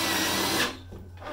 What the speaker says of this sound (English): So now I have tightened all the screws.